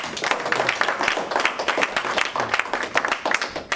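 A church congregation in Newark, New Jersey applauds with dense, continuous clapping from start to finish. The sound is moderately loud and even, with no talking over it.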